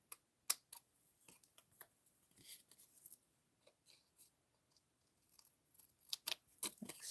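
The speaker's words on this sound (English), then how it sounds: "And then I'm going to trim off these edges." Scissors trim the edges off a paper card element at close range, giving a series of sharp, quiet snips and crisp paper rustles with short pauses between cuts and no talking.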